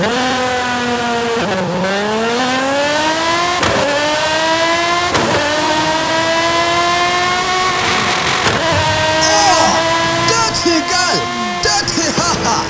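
A Lamborghini Essenza SCV12 V12 engine in the Forza Horizon racing game, loud and close, climbing through the revs in a long pull with sharp drops at each gear change and a brief screech of tires near the end.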